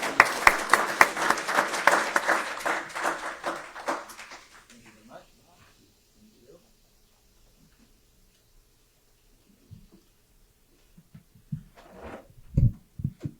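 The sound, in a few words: audience applause for a speaker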